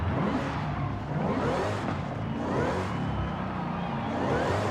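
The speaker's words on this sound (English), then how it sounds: "That supercharger sounds mean, man." Supercharged car engine with a lighter flywheel in Forza Horizon 5, revving up and down in quick repeated rising and falling sweeps with whine, moderately loud and without talk.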